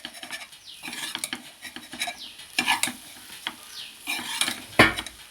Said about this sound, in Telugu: ఇప్పుడు దీన్ని పైన కింద మొత్తం బాగా కలుపుకోవాలండి.